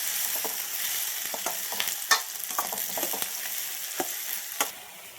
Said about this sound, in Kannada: ಇದನ್ನು ಕೂಡ ಚೆನ್ನಾಗಿ ಫ್ರೈ ಮಾಡ್ಕೊಳ್ಳಿ